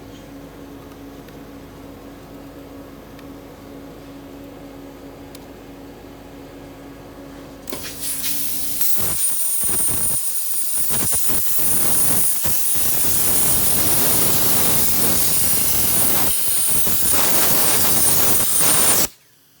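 A 2006 Retro Systems Hornet H60 5' x 10' plasma cutting table firing up after a low machine hum, then a loud steady roaring hiss while it cuts a 4-inch circle, stopping abruptly at the end.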